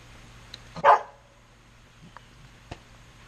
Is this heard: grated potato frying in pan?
no